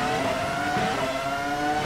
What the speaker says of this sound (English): just listen to this throaty V10 engine roar on this first lap here